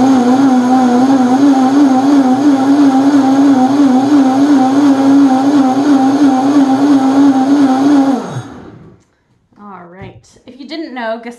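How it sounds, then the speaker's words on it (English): Blender whirring at steady high speed while blending white gazpacho, a loud close droning motor with a slight wavering pitch for about eight seconds that then winds down and stops, followed by a few brief sounds. "So now I'm just getting my lid on my blender"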